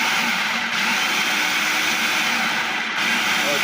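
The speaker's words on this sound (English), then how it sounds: "So I I put it in my blender and plug it in first." A kitchen blender whirs steadily while blending diced tomatoes, a loud continuous motor whine with two brief dips where it pulses off and back on.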